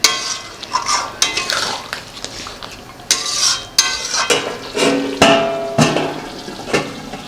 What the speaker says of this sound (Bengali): এবার একটু মিক্স করে দিয়ে ঢাকা দিয়ে এটাকে রান্না হবে।